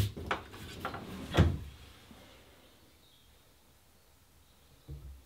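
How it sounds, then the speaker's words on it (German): A wooden kitchen drawer in a handbuilt kitchen in a forest house slides shut with a few quick rubbing knocks and a soft-close thump, followed by quiet and a faint final tap. "ob Schubladenverschlüsse schön oder nicht schön klingen"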